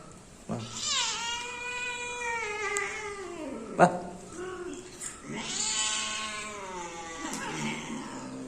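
A cat gives long, drawn-out meows and caterwauling growls, loud and close, rising and falling in pitch almost without pause as it is brought near.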